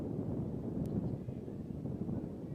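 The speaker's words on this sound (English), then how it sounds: "we're definitely in the middle of one of those 40-mile-an-hour gusts" Strong gusting wind, around forty miles an hour, buffets the microphone at an outdoor high school baseball game, a steady low rumbling roar that fills the whole stretch with no talk.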